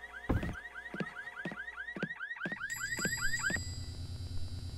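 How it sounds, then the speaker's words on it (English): Video game car alarm blaring with repeated rising electronic whoops in a steady rhythm, loud and close, with no talking over it. "I thought the mechanic fixed the alarm problem, but apparently not."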